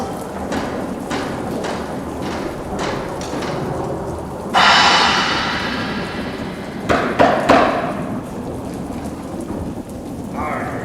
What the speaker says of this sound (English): 'Tis a raw, rainy night outside.